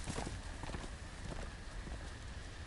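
Faint, rapid hooves clip-clop steadily over a dense, noisy background, like a horse trotting along at a distance, in the video game Game of Thrones.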